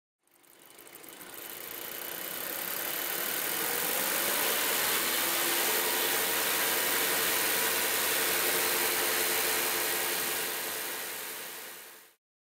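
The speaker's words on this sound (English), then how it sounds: "The engine is now running lean of stoichiometric." A car engine idling lean of stoichiometric during exhaust gas analysis, a steady close drone that fades in, holds evenly for about ten seconds, then cuts off.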